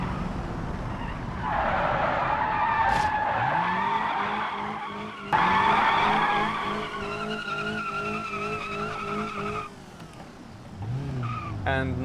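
A fast car in a racing video game, an Ibushu Covet 1.5 in third gear on a rough, poor-quality road, with engine tones that climb and fall through the gears and steady tire skidding and squealing throughout.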